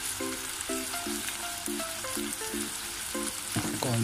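Garlic and onion sauté in a pan, a steady sizzle and fry running throughout, faint under some tonal beeping sounds, with no talking.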